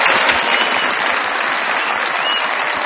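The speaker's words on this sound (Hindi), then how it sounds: "चलो बहुत सारी तालियां।" Studio audience at a Pakistani television comedy show breaking into loud, sustained applause, a thick even wash of clapping that holds steady throughout without any talk over it.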